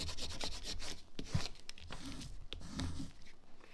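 A scraper is rubbed across a layered vinyl decal wrap on a plastic Starbucks cup, a soft, close, continuous scratchy rubbing with a few small taps, fairly quiet throughout.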